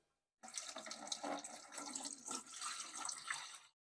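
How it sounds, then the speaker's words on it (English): Strained elderflower wine liquid is poured into a bucket, a close, steady splashing pour that starts abruptly and runs continuously for a few seconds without talk. "I'm going to pour the liquid back in."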